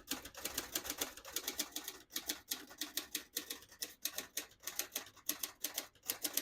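Rapid keystrokes from a 1939 Royal Arrow vintage portable typewriter, an even run of sharp mechanical clacks with brief pauses between bursts, close and clear with no voices.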